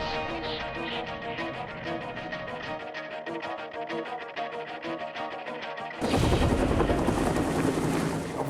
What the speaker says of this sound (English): Obvious way to get at a moving object that's doing 70, 80 miles an hour is to come in by helicopter